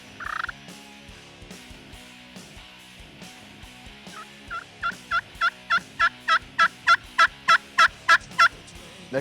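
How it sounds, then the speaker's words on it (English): Wild turkeys gobble repeatedly from the ridges during a bow hunt, with one loud burst early and then a rapid, evenly spaced series of gobbles that grows louder and nearer. "a whole bunch of turkeys gobbling all around us, all these ridges"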